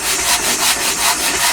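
A hand saw cuts through wood in steady back-and-forth strokes, a bright rasping sound close up and continuous, with rhythmic pulses marking each stroke.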